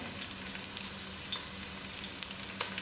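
Onions, a cinnamon stick and thyme fry in a pot of oil for a Durban mutton curry, giving a steady close sizzle with scattered small pops and crackles. No one speaks.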